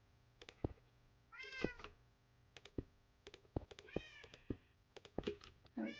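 A house cat meows twice, the calls clear and close, set among light clicks and taps from nearby indoor activity.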